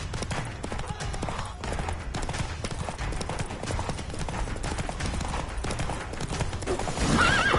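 Roach the horse gallops in The Witcher 3, rapid hoofbeats clip-clopping steadily through a busy game battle scene with scattered clashes, and a brief whinny rises near the end.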